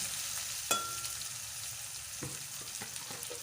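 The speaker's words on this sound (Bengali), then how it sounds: "পেঁয়াজ আর কাঁচা লঙ্কাটা ভালো করে ভেজে নেব।" Onion and green chilli sizzle quietly in oil in a kitchen pan, a soft continuous frying hiss broken by one sharp utensil tap and a few small clicks, no speech.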